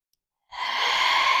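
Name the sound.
deep yoga breathing, inhale and exhale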